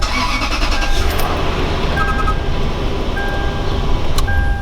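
A Lexus GX470 engine cranks and settles into a loud, steady idle rumble, with faint chime tones from the cabin partway through.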